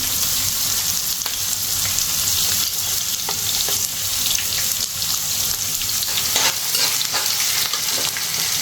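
Onions sizzle on a low flame in a frying pan while a spoon stirs them, giving a steady, close crackle with occasional scraping clicks and no talking.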